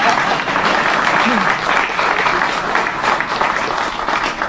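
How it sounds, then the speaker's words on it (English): Steady, dense applause from a large crowd at an outdoor celebration in Chicago's Pullman neighborhood, loud and sustained throughout with no pauses. "You can clap for that."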